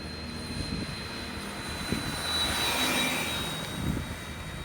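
A Traxxas Summit RC truck driving at full speed, a continuous high electric motor whine over a rumble of tires, with soft bumps as it swells and recedes nearby.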